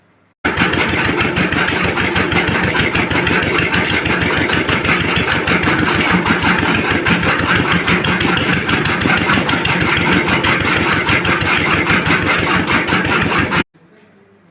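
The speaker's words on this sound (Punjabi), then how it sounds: "ਮੈਂ ਇੰਜਣ ਆਪ ਸਟਾਰਟ ਕਰਿਆ" A motor engine runs loudly and steadily with a fast, even throbbing rhythm, starting abruptly and cutting off near the end, powering a fodder cutter.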